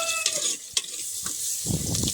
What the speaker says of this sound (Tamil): நீ கரண்டியை போட்டு கலக்கு.